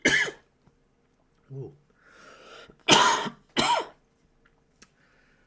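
A few sharp, close coughs and throat-clearing bursts separated by brief breaths, with a short exclamation mixed in.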